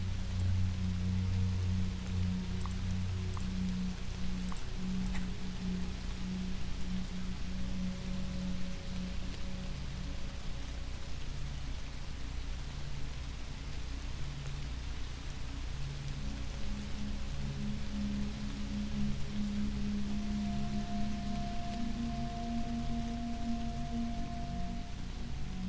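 Steady rain falling in the video game Intergalactic Fishing, a continuous even patter under soft low musical tones that drift through the scene.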